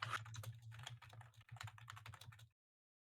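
Fast, forceful typing on a computer keyboard, a close, rapid clatter of key strikes that runs for about two and a half seconds and then stops dead into silence.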